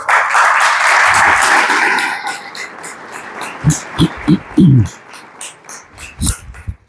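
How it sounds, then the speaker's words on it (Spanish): Audience applause at a talk on commons and forest conflicts, a loud burst of clapping that fades after a couple of seconds, followed by a voice speaking close by. "Un aplauso para ellos."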